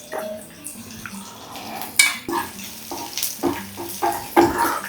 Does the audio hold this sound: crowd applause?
no